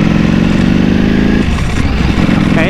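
Ducati Panigale V4S motorcycle with a dry clutch idles and revs loudly up close, its steady engine drone running throughout with the dry clutch clatter mixed in, then a quick rising rev near the end.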